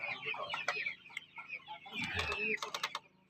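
Bangkok chickens cluck around a home chicken coop in a flock of about a hundred birds. The clucks come close and repeated over a steady murmur of other birds and farm background.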